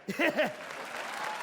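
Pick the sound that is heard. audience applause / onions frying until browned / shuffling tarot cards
audience applause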